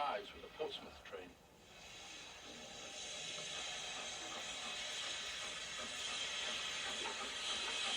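A Southern Railway L12 4-4-0 steam locomotive, No. 424, pulls into Sutton with the Portsmouth train. A faint, steady steam hiss and low rolling rumble sit under the surface noise of an old recording.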